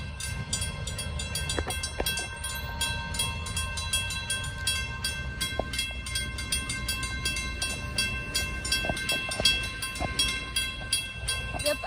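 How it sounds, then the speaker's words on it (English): A CFNR freight train, locomotive 2402, rolls through the Third Street railroad crossing in Davis, California, with a continuous rumble of wheels on rail under a rapidly repeating crossing bell and occasional horn tones. "got a train coming down the tracks"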